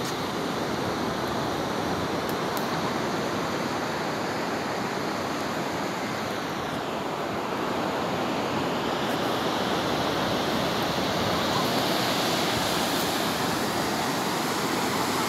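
Continuous surf washing onto Miramar beach in Ciudad Madero, Tamaulipas, Mexico, a broad roaring wash of breaking waves that swells slightly toward the end, with no voices.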